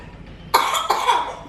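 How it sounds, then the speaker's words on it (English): A baby girl gives two quick, close coughs in a quiet indoor room, the second following shortly after the first. "she does have a little bit of a cough"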